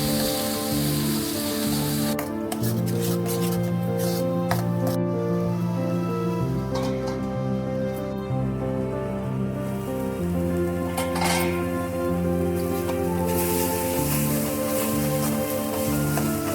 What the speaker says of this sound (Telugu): ముందుగా తయారు చేసుకున్న పేస్టును ఇందులో వేసుకున్నాం. వేగే వరకు కలుపుకోవాలి.